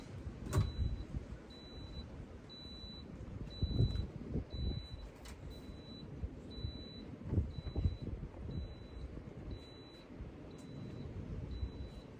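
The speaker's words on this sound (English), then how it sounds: "This is beeping and flashing EO2." Quiet, regularly repeating electronic beeps from an inflatable hot tub control panel showing an E02 error, about one per second, over low rumbling background noise and occasional knocks.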